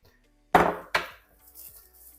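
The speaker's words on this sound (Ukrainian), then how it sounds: "М'ясо відбиваю ось цією стороною, яка без зубчиків." Two sharp, close thuds of a smooth-faced meat mallet striking a chicken fillet laid on plastic film, followed by softer handling knocks.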